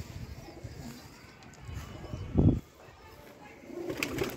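A male pigeon of the Hare breed gives a brief, low throaty coo amid soft rustling and faint background voices, close but quiet.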